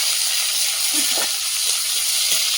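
Whole cumin seeds sizzling in hot oil in a pan, a steady loud hiss that fills the whole stretch, with a few faint knocks and clinks beneath it.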